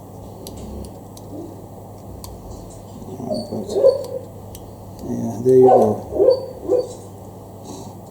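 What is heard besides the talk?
dog making noises while dreaming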